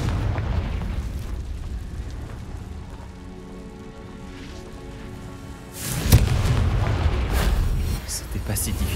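A Confringo fire spell bursts in Hogwarts Legacy, a loud booming blast about two-thirds of the way through over game music and ambience, with a voice speaking in the scene.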